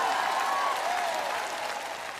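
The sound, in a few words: audience applauding and shouting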